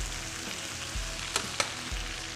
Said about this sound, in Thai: กุ้งก็ทอดให้กรอบครับ ตอนนี้ไฟเริ่มแรงแล้ว เราก็จะกรอบครับ